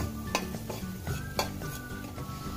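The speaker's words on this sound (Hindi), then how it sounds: "इसी घी में हम डाल देंगे। और इसको हम बिल्कुल कम गैस पर भुनेंगे।" Gram flour roasting in ghee on low heat in a pan, with soft scraping and clinking of a spoon against metal at irregular intervals over a faint low sizzle.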